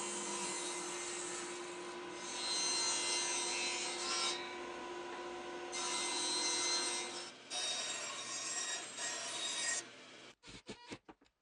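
A hand saw rasps through the wood of a dust collector manifold in close, steady strokes, surging and easing in bursts before ending in a few sharp knocks.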